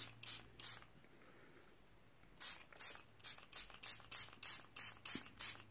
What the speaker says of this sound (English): And then I'm going to spray the background.